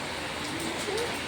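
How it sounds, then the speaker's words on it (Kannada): Rain falling outdoors near a temple, a steady even hiss of drops with no breaks, a light patter at moderate distance and no clear voices. "ಮಳೆ ಬರ್ತೈತ ನೋಡು"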